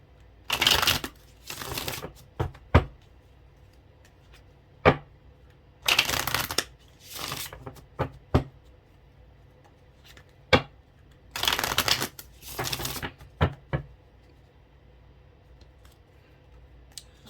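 A tarot card deck is shuffled in several quick riffling bursts, with scattered sharp card taps and clicks between them, close and with no talk.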